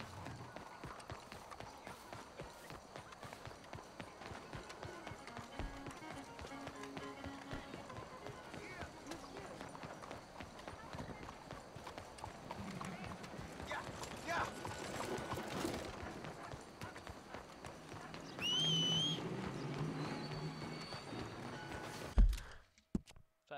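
Red Dead Redemption 2 horse galloping, a quick steady clatter of hooves that runs under game sounds and character talk for most of the span, then cuts off abruptly at the end.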